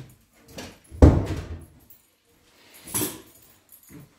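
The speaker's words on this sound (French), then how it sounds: "Je vais fermer la porte." A door pushed shut, landing as one solid close thump near the start, with lighter handling knocks before it and another softer bump later in a quiet room.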